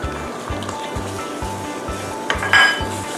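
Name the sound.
ladle stirring yellow curry paste into water in a pot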